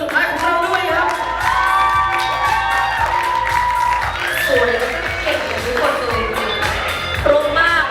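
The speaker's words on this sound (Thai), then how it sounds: "เสียงปรบมือต้อนรับ4 คน" Audience at the Miss Grand Mahasarakham-Kalasin 2024 pageant final cheering and clapping as the top four contestants are welcomed: a loud, sustained wash of shrill screams and whoops over steady applause, with no break across the stretch.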